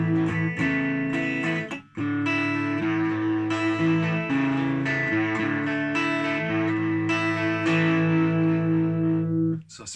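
An electric guitar through a Boss PW-2 Power Driver distortion pedal plays sustained chords, guitar volume backed off, changing roughly every second with a brief pause near the start and a trailing stop at the end.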